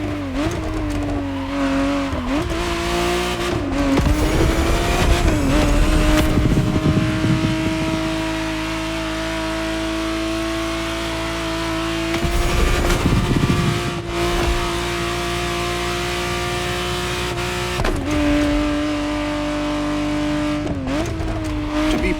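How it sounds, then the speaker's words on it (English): A 1991 Ferrari 512 TR Testarossa in The Crew Motorfest racing game, its flat-twelve engine holding a loud steady drone that rises and drops through repeated gear changes, with bursts of tire squeal and skidding mixed in. "the exact model Motorfest has put in your hands is the 1991 re-engineered version of the Testarossa, introduced as the 512 TR"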